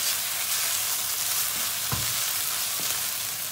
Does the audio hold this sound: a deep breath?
no